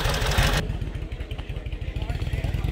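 A 1969 Harley Shovelhead motorcycle engine idles close by at an antique motorcycle club event, its exhaust beating a loping, uneven rhythm after a brief louder opening burst.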